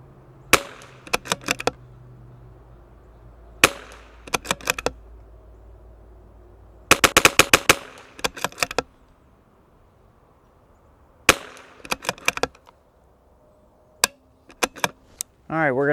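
CZ 457 rimfire rifle fitted with a 26-inch Lilja straight barrel firing test groups, sharp cracks in clusters of rapid shots separated by short pauses, with faint action clicks between strings.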